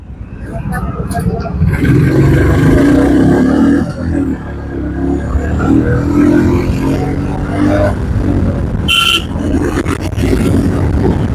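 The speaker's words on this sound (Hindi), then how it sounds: "आपको रोड की आवाज सुनाई दे रही है जिस तरीके से हमारी दिल्ली वाली बुलेट दहाड़ रही है." A Royal Enfield Bullet motorcycle roars along the road, a loud continuous low engine rumble with wind noise, heard from the rider's position while someone talks over it.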